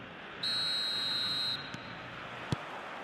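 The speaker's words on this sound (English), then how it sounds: "There's the whistle, and here we go." In the football video game eFootball, a referee's whistle blows once, a single long shrill tone about a second long over a soft crowd-like hiss, followed by a faint short tap.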